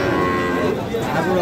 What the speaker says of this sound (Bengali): সাহেব আলী ভাই কটা গরু আছে আজকে?